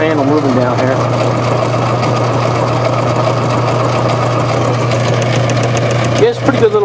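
Small lathe taking a light cut on a crankshaft, a steady mechanical drone with a constant low hum running throughout, close and fairly loud, briefly dipping near the end.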